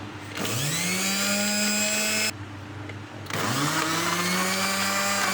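Electric kitchen grinder chopping coriander, mint and onions for mutton kofta curry, two loud sustained motor whirs rising in pitch as they spin up, separated by a short pause.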